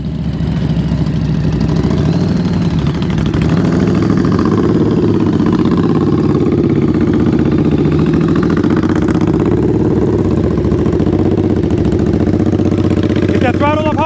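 A motorcycle engine runs loud and near at low speed during slow-speed riding practice, a steady rumbling idle with slight throttle variations, while a voice talks over it.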